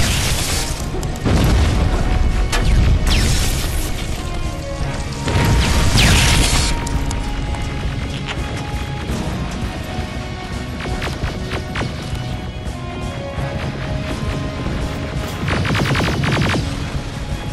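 Combat in the video game Terminator: Resistance, with loud booming blasts and a dense, continuous barrage of rapid gunfire and crashing impacts that hardly lets up for the whole stretch.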